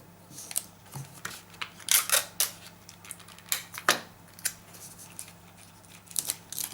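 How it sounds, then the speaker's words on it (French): Scissors or a blade cut through a template being made from a mould, giving a run of crisp, snipping bursts in irregular rhythm, close and fairly quiet, with no talking. "il va encore falloir couper un petit peu plus bas."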